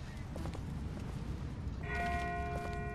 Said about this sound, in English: That's not the same bell as before. This one's further off.